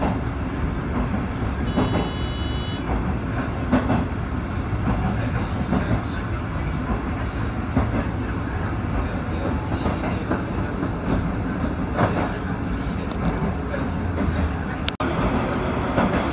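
A passenger train on the Osaka Higashi Line rolls along the rails while curving toward Minami-Suita station, a continuous loud rumble with rhythmic wheel clatter and a brief high squeal early on.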